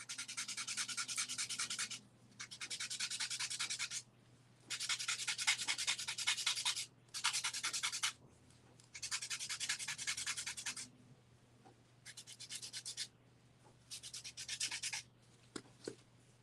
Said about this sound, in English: I like this little thing they gave us, this sandpaper thing.